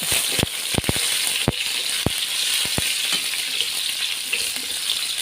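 Chilies frying with garlic in a pan, a loud dense sizzle punctuated by sharp clicks and spatula knocks, steady and close with no talking.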